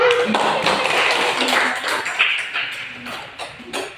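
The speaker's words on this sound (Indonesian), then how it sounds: "Tepuk tangan dulu untuk Azhar" A classroom audience claps for a student named Azhar during a school teaching-practice session, a short scattered patter of hand claps with speech-like voices mixed in, moderately loud and fading toward the end.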